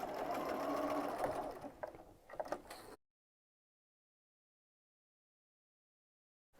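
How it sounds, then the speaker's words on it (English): Sewing machine stitching down the pleats of a fabric face mask, a close rapid mechanical whirring run that stops abruptly, followed by silence. "I'm going to sew down these pleats."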